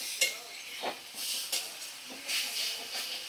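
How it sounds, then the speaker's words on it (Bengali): Ginger-garlic paste masala stir-fried in a pan for a fish dish, with a soft steady sizzle broken by repeated brief scraping stirs at close range, no talking. "মশলাটা ভালো করে কষিয়ে নিচ্ছি"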